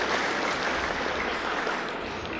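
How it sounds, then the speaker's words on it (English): An audience applauds exhibitors at an international dairy week Holstein cattle show, a continuous wash of clapping that stays steady and full for the whole stretch. "I think you ought to give all the exhibitors a big round of applause"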